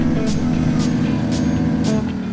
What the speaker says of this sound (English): it has like the same engine sound as the pickup truck